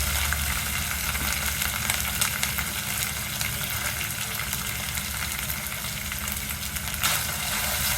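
Onion paste frying in a pan for mutton liver cooking, a steady close sizzle and crackle that holds evenly throughout with no talking.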